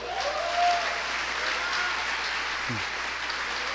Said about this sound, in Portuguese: Você podia aplaudir a Deus?